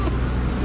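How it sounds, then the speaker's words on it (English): Wind gusts buffet the microphone aboard a moving boat, a dense, loud, continuous rush lasting under a second. "Do you love the wind in your hair?"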